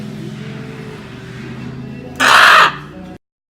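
A parrot gives one loud, harsh squawk lasting about half a second, rising abruptly over a steady low background hum and then stopping. No one speaks.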